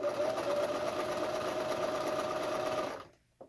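A sewing machine runs steadily as it stitches the hem of a cloth face mask, a close, continuous whirring drone that cuts off near the end, leaving a brief quiet with a small click.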